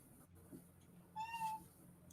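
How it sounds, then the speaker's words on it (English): A domestic cat gives a single upset meow, a short rising-and-falling cry standing out clearly over quiet background noise. "Cat, yo. She's upset."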